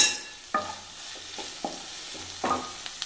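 Curry masala with turmeric powder being sautéed in a pan for a Chengannur-style bone curry, heard as a soft continuous sizzle broken by several distinct scraping stirs of a spoon.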